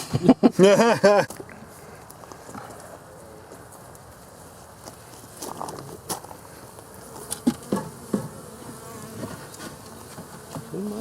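Insect buzzing from honeybees in a hive fills the clip, loud at first and then a steady low hum with scattered clicks and knocks.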